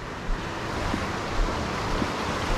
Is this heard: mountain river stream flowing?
yes